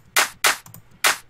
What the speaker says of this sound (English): So let's adjust our clap, make it a little bit shorter.